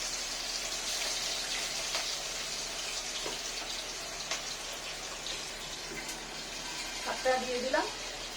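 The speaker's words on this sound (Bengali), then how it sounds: "মাছগুলো ভাজা হবে আস্তে আস্তে।" Fish frying slowly in a pan in a village kitchen gives off a faint, steady crackling sizzle, with a brief voice sound near the end.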